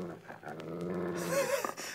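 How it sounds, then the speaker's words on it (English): A dog growls low and steadily under a table, a rumbling, throaty snarl that rises and wavers near the end, close and fairly clear, with a voice speaking over it. "That dog won't budge. He just won't move."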